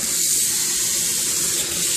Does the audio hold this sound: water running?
yes